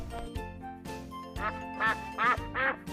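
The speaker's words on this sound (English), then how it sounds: "Duck makes a quack quack sound." A duck gives a series of nasal quacks, loud and close, in quick bursts that grow stronger toward the end over about three seconds.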